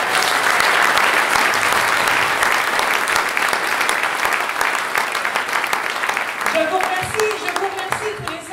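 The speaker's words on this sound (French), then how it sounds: "On peut les applaudir encore une fois." A crowd at a French legislative election rally applauds candidates in sustained, loud, dense clapping that gradually thins toward the end as a voice begins speaking over it.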